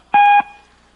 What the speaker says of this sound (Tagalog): Mag-iwan ng message after the beep.